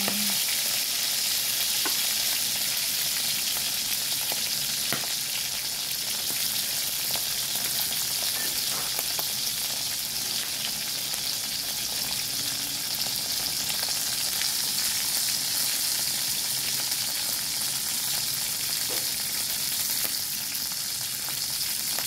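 Milkfish (bangus) fries in a pan with a dense, continuous sizzle and crackle, steady and close throughout with occasional sharper pops, and no talking.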